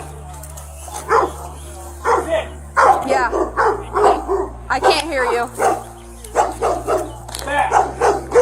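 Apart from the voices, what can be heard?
dogs barking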